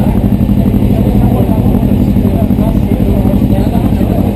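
A Honda CB500 motorcycle runs on a dynamometer, its engine droning loud and steady close up with a rough mechanical clatter and no clear pauses.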